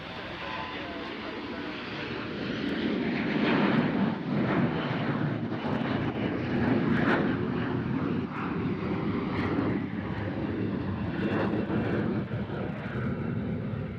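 An airliner departs Nashville International Airport for JFK, a powerful jet roar building and holding loud across the stretch, with speech intermittently over the engine noise.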